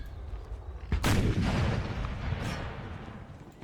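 Cannon artillery fire in the strategy game Empire: Total War, with a sharp boom followed by a long rolling rumble and a second fainter report, heard alone at moderate loudness.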